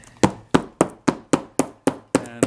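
A book spine is struck with a hammer to round it during hand bookbinding, landing eight sharp, evenly spaced blows that each ring briefly and decay, close and alone.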